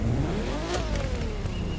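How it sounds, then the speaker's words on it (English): A Nissan Skyline R34 engine in The Crew 2 revs loudly and steadily, its pitch climbing to a peak and then easing down in one long, sustained rev. "That was a long rev."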